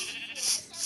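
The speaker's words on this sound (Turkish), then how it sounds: "Koyun." A single bleating sheep in Minecraft, nasal and fairly close, lasting under a second with no other sounds around it.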